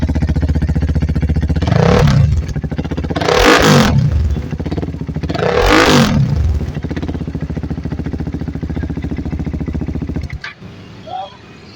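A 2014 KTM Duke 390 motorcycle idles loudly up close, with three sharp revs climbing and falling before it settles back to a lumpy idle and shuts off.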